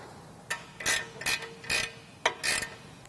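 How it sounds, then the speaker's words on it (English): A 10 mm wrench ratchets plastic nuts onto the back of a rear bumper with tire carrier for a Jeep JL, giving a series of short, sharp clicking bursts in quick succession, close and fairly quiet. "install the two plastic nuts on the back side using a 10 millimeter wrench"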